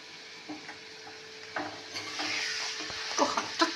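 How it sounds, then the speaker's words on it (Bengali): Prawns fry lightly in oil in a pan, a soft crackling sizzle with occasional stirring scrapes and spatters that grow a little louder toward the end. "হালকাভাবে চিংড়িটা ভেজে নিই।"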